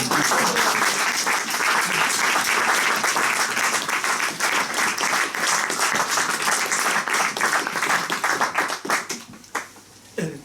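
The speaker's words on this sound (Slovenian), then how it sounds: "Res en aplavz za Andreja." An audience applauds a speaker steadily, dense clapping filling the room for about ten seconds before thinning out near the end.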